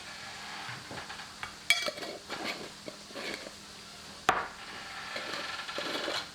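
Lasagna filling being stirred with salt and pepper in a bowl, with soft scraping and mixing sounds and two sharp utensil knocks against the bowl, close and fairly quiet.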